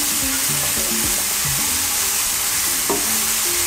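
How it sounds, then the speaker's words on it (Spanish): Sliced peppers and onion sizzle steadily in a hot pan for Dominican dumplings with salt cod, a loud continuous frying hiss broken by a few scraping stirs. "Vamos a esperar unos cuantos minuticos para que los pimientos y la cebolla se cocinen un poco"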